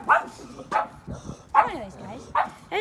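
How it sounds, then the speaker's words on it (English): A dog barks at a neighbor in a rural workshop setting, sharp yips and barks coming roughly every second in a run of four, fairly close and mixed with a person's voice talking to it. "And now Sabrina's barking at my neighbor"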